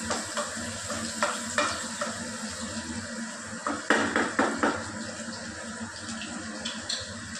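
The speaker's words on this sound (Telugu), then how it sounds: "నూనె పెట్టి ఆవాలు జీలకర్ర వేసాను, ఆనియన్స్ వేసేస్తున్నాను." Onions frying in hot oil with mustard seeds and cumin, a steady close sizzle broken by repeated scraping stirs of a spatula in the pan.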